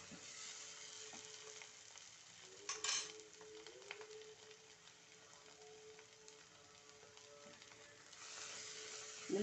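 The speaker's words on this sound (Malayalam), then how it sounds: "നന്നായി ഇളക്കിക്കൊണ്ടിരിക്കുക." Masala for paneer butter kurma stirred in a pan at home: a steady, soft sizzle of frying runs throughout, with scattered scrapes and brief clinks from the spoon against the pan.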